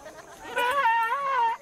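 A sheep from a Hamar village herd in Ethiopia lets out one long, wavering bleat nearby, loud and clear over a quiet outdoor background.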